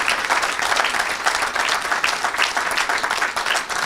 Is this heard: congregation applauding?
yes